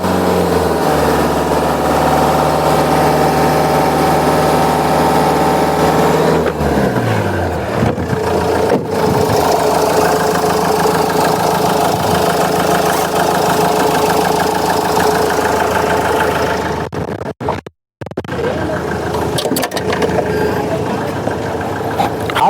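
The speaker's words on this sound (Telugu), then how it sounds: "ఇంజన్ కూడా సూపర్ కండిషన్ ఉందండి" A 2016 Mahindra XUV diesel SUV engine idles steadily up close, a loud continuous rumble that shifts in pitch partway through, with brief clunks and a short cutout.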